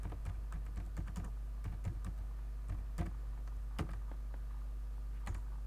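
Keys clatter on a computer keyboard in quick, irregular bursts of clicks, close and clear over a low steady hum.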